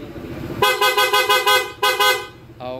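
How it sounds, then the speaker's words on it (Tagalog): A loud car horn honks in a series of short, rapid toots, then one longer blast, then a final brief honk from a different horn. Each sounds close and bright. "Loud horn."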